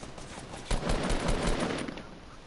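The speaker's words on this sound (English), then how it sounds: "Bro, why would you shoot at him?" Video game gunfire crackles in a dense burst of rapid shots, loud and close, fading off over about two seconds after a quieter start.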